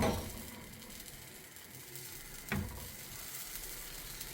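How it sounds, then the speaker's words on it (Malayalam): Leftover uttapam batter sizzles on a hot pan with a continuous hiss, one sharp scrape or clack midway, heard close with no voices. "ബാക്കി വന്ന മാവ് ഇതിലേക്ക് ഒഴിച്ചു കൊടുക്കാം."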